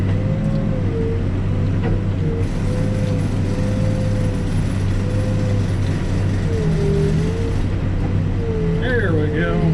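A backhoe digs shale in a hole, its diesel engine droning loud and steady throughout with a rising and falling hydraulic whine, close by and continuous, with a voice briefly at the end.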